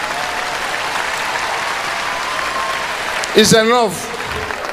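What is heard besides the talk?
audience clapping for themselves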